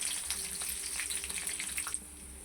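Dry red chillies frying in hot oil, a steady crackling sizzle with scattered pops that eases off toward the end, close and fairly quiet.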